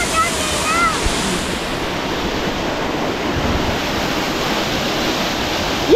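A waterfall in flood sends a loud, steady, unbroken roar of rushing water, with some wind buffeting the microphone.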